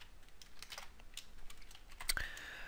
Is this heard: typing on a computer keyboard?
yes